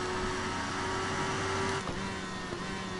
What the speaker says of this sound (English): That definitely sounds like it's sucking into a twin turbo.